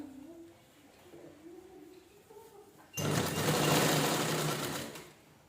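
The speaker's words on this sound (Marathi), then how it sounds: "फक्त एकसारखं स्टिच करून घ्यायचं व्यवस्थित असं." A sewing machine stitching fabric for a small square cloth project, starting abruptly after a quiet stretch with faint bird cooing, then running as a loud, steady whir for a few seconds before slowing.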